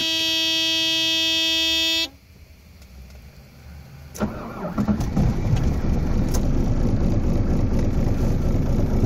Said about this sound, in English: 1995 Mercedes diesel. This is the problem starting it up.